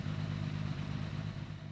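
A Lamborghini Miura V12 with its carburettors freshly tuned and synchronized idles evenly. The low, steady mechanical rumble continues without any revving or speech.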